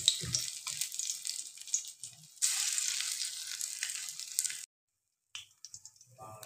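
Shrimp fritters in a gram-flour batter with turmeric and salt fry in oil, giving a bright, hissing sizzle that swells, stops abruptly, then returns as faint, scattered crackles.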